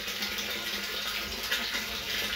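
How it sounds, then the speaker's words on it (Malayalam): Water pumped by an electric motor gushes steadily into a storage tank fitted with a float switch, a constant rushing hiss at moderate volume with no talk. "ഇപ്പോൾ വെള്ളം നമ്മുടെ ടാങ്കിലേക്ക് നിറഞ്ഞുകൊണ്ടിരിക്കുകയാണ്."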